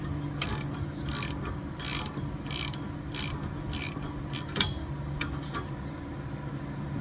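Quick bursts of socket ratchet clicking while loosening a brake caliper bolt on a 2019 Dodge Charger, close and rhythmic, in several short runs over a low background hum.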